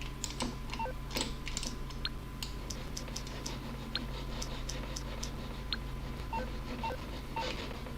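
Normal in-game phone sound effects in GTA Online, quiet sharp ticks and clicks like keypad presses or dialing tones tapping in an irregular rhythm over a low steady hum.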